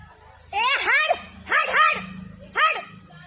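Three sharp dog barks ring out close by, the first longer and doubled, with pauses between them.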